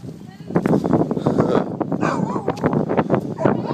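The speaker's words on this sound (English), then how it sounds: "Our little chihuahua." Small chihuahua dog yipping and whimpering in short bursts close by, mixed in with several people talking and calling to it.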